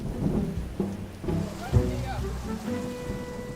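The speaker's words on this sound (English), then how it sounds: "At 4 p.m, the storm breaks over Newquay." A thunderstorm with rain breaks over Newquay, with steady rainfall and low rumbling bursts of thunder, while faint voices and other sounds mix in underneath.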